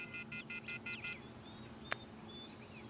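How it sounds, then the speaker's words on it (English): A cell phone in the video game Everlasting Summer dials a number: a quick run of five or six short touch-tone beeps, then a few fainter tones and a single sharp click, over a quiet ambient hum. "I took out my cell phone and dialed the first number from my contact list."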